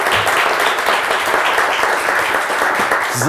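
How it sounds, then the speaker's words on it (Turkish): A studio audience on the Turkish word game show Kelime Oyunu gives a short round of consolation applause, loud, dense and steady throughout with no gaps. "Neyse yine de bir avuntu alkışını hak ettim."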